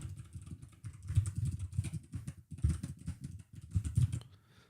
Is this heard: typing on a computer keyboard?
yes